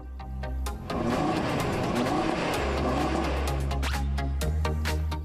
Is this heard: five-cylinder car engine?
yes